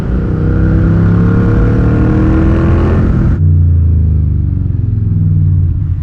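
An Indian Scout cruiser motorcycle engine revs hard with a deep, bassy exhaust rumble, loud and close. It drops briefly, then picks up again.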